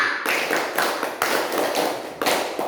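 A group of children in a classroom clap in a steady patterned rhythm, about half a dozen sharp, loud claps close by with little else around them.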